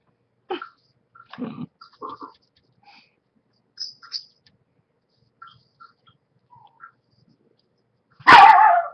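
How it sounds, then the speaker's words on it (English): Several dog barks burst out loudly near the end, following faint scattered sounds and quiet gaps in an indoor room. "Barking dogs."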